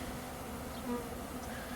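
Close, steady buzzing of honey bees at early morning, a low droning hum with individual insects passing near the listener, and no voices.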